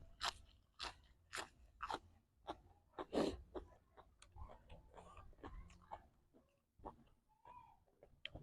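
Crunchy fermented shrimp in fish sauce being chewed up close, a run of sharp crisp bites and crunches in uneven rhythm, loud and alone with no talk.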